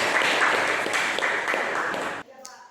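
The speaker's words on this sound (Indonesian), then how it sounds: "Oke, tepuk tangan ya." Classroom audience clapping together in a dense, lively burst for a couple of seconds, then stopping abruptly, with a little voice underneath.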